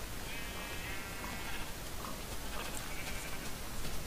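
Faint Minecraft sheep bleats come and go against a constant noisy hiss, soft and somewhat distant, with no talking.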